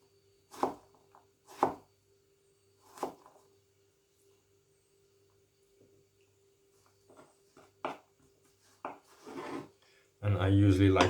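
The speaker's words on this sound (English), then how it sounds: "I usually like to cut the vegetables all in one go" A knife chops onion and vegetables on a board in a home kitchen, giving sharp separate thuds, a few widely spaced and then quicker clusters, with a voice starting to speak at the very end.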